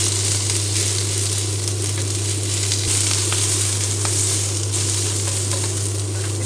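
Choi sum stalks hit a hot wok and stir-fry with a loud, continuous sizzle, close up and unbroken, with a low steady hum underneath and faint scrapes of stirring.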